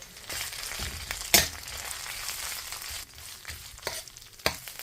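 Garlic and curry paste stir-fried in hot oil in a wok for a spicy Thai sea eel stir-fry, a close, constant sizzle broken by a few sharp scrapes and knocks of the spatula, with no voices.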